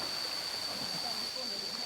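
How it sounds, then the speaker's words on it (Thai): Mae Kasa waterfall gives off a faint, steady broadband rush of falling water, heard from some distance with a thin high whine over it and quiet voices now and then. "นี่น้ำตกแม่กาสาเหรอ"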